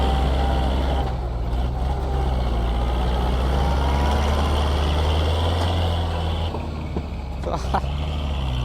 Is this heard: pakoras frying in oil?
no